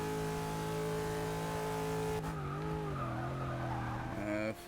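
A Pontiac Aztek in Forza 6 locks its brakes and skids, a sustained engine drone bending into a wavering tire squeal before a brief rising rev at the end.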